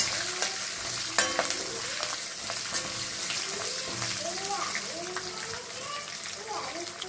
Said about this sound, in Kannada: ಜೀರಿಗೆ, ಜಜ್ಜಿಸ್ಕೊಂಡಿರುವಂತಹ ಬೆಳ್ಳುಳ್ಳಿ ಎಲ್ಲ ಹಾಕಿ ಒಂದು 2 ನಿಮಿಷ ಅದನ್ನು ಚೆನ್ನಾಗಿ ಫ್ರೈ ಮಾಡ್ಕೊಳ್ಳಿ